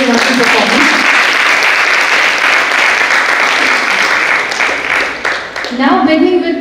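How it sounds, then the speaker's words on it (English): Loud, sustained audience applause follows a performance at a live canvas painting competition event in Goa. Dense clapping fills the whole stretch while a voice rises briefly at the start and again near the end. "I would request everybody to hear a huge round of applause for them for such a wonderful performance"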